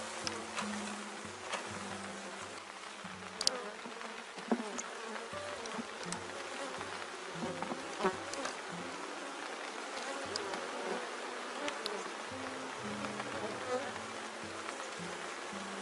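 Honeybees make a steady, dense buzz at an open hive being split, close and continuous throughout, with occasional louder passes of individual bees near the microphone.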